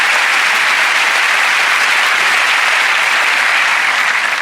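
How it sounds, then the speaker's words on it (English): Audience applause after a stage magic routine, a loud, dense, continuous clapping that holds steady the whole time. "Thank you for that round of applause."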